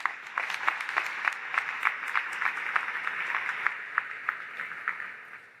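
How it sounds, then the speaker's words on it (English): Graduates at a 2022 college commencement applaud together in a steady, sustained wash of clapping that sounds somewhat distant, with individual claps popping out now and then before it starts to taper off. "Give yourselves a round of applause"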